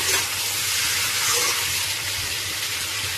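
Local chicken frying in a pan with a spice mix for an Assamese dish, giving a steady, loud broadband sizzle and hiss that stays even throughout with no talking.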